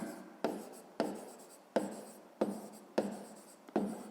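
Pen strokes scratching across paper in a run of six quick, regular strokes, each starting with a sharp onset and trailing off, close and clear with no talking, as in a 5th-grade math exercise being written out.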